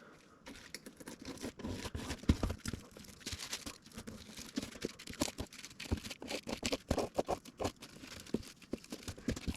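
A piece is cut out of vinyl door-card material from a 2008 Ford Mustang, giving close, irregular crinkling, snipping and rustling sounds throughout.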